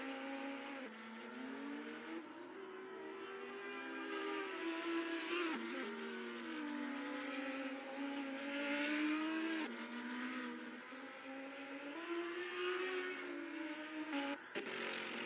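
Race cars in a virtual racing game, one a McLaren, scream steadily through the gears with rising and falling engine pitch and brief tire-squeal moments, dense and continuous at moderate loudness without talk.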